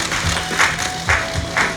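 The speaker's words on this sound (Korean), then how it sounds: "자, 여러분 큰 박수로 환영해 주십시오." An audience claps to welcome guests at the press launch of the MBC drama Pasugun. A short spell of brisk applause comes in pulses, loud and close, with a steady hum beneath.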